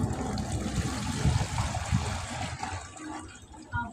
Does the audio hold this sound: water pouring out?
yes